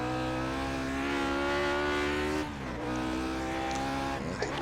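A Lotus 49 Formula 1 car in the iRacing sim holds a steady, loud, buzzing engine note at high revs, briefly easing for a shift or lift midway before droning on again.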